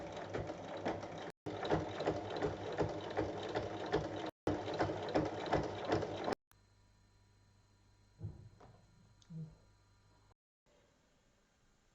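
A sewing machine stitches a seam on a large bag with two pockets. It runs in steady, rapid mechanical bursts for about six seconds with brief pauses between them, then falls quiet apart from a few soft handling knocks.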